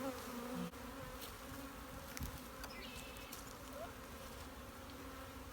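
Honey bees drone steadily around four hive boxes during a spring hive split in Durango, Colorado. The buzzing is a constant, fairly quiet hum, with individual bees passing close by.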